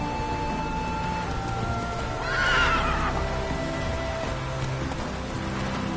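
Roach the horse from The Witcher 3 gives a single whinny around the middle of the stretch, set against steady rain and faint hoofbeats, with no talking.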